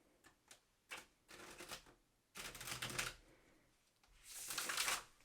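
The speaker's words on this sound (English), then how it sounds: "It shuffles well overhand." A Marseille tarot deck shuffled overhand gives brief dry papery bursts, a few light quick riffs and then longer, denser flurries of card friction, close and crisp with no talking.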